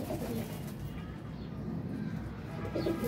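Pigeons of a flying breed coo softly in low, repeated throaty calls, close by, over a steady background murmur.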